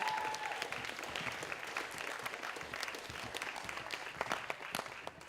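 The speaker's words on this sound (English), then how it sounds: "our claps are getting like dimmer and dimmer" An audience claps after a spoken word poetry reading at a showcase, a fairly quiet, thin patter of scattered hand claps that stays even and somewhat distant, with no talking.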